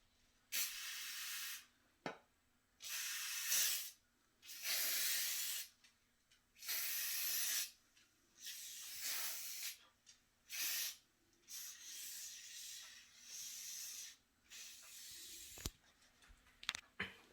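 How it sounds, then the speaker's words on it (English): Cooking spray is sprayed onto a baking pan in repeated short bursts of hissing, each lasting about a second, with brief pauses between them. The spray sounds close and fairly quiet, with no talking. "So now I have to spray my pan."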